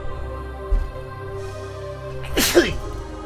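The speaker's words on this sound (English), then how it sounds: "sneezing out of my goddamn face" One loud, close sneeze erupts about two-thirds of the way through, a sudden broad burst over a steady electronic hum and faint background sound from a role-playing game.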